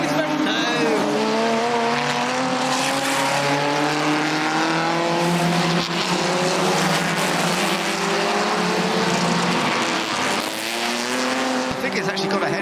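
Vintage racing cars at the Goodwood Revival race meeting brake and change down into the chicane, several engines overlapping with rising and falling harmonics and a brief tyre squeal, loud and continuous, with a commentator talking over the top.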